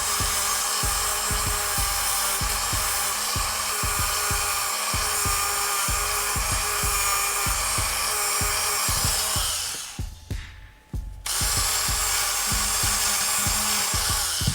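Dremel rotary tool on low speed spinning a nylon brush against the threads of an RC buggy clutch, a steady whining whir with rhythmic dips as the brush bites, briefly stopping near the end before resuming.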